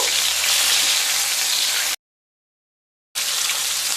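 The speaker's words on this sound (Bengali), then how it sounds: "একটা সাইড ভাজা হয়ে গেছে এবার উল্টে দেব" Katla fish frying in mustard oil after being flipped, a loud close hissing sizzle that cuts out to silence for about a second before resuming just as strongly.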